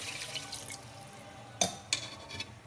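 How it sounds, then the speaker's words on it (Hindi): A glass of water poured into browning masala in a cooker for lauki gosht, a few distinct splashing pours and drips over a faint background hiss. "हम इसके अंदर ये अपना 1 गिलास पानी डाल रहे हैं"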